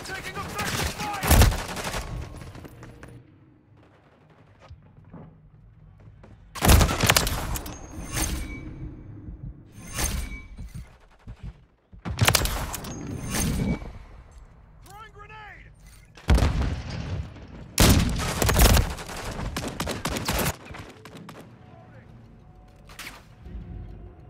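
Repeated bursts of gunfire from a sniping video game, loud sharp volleys separated by quieter stretches, with voices talking between and over the shots.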